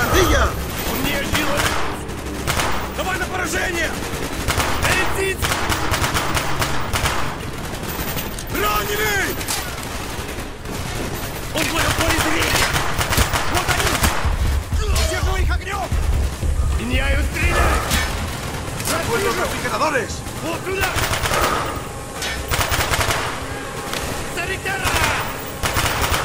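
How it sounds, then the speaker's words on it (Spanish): Gunfire in the Call of Duty Black Ops video game, sustained bursts and rapid cracking shots with mechanical clatter, loud and continuous throughout, with voices shouting intermittently over the firing. "¡Le están disparando!"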